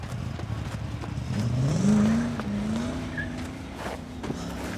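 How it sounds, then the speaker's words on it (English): A car engine in the horror game Unholy pulls away and revs up, its pitch rising and then settling into a steady drone as the vehicle drives off, heard fairly close and without talk. "Dang, that car sounded cool."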